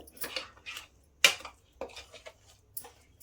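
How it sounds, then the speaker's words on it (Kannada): Semolina (rava) batter stirred in a bowl, with intermittent close scrapes and clinks of a spoon on the bowl separated by short pauses, no voices. "ರವೆ ಫುಲ್ ಅದರಲ್ಲಿ ಚೆನ್ನಾಗಿ ಮಿಕ್ಸ್ ಮಾಡಿಬಿಡೋಣ ಫಸ್ಟು"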